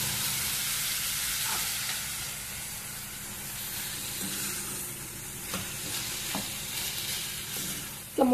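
Vegetable pieces cook in a covered pan with a soft, steady sizzle and hiss, faint and even, with a few small clinks and a louder knock at the end.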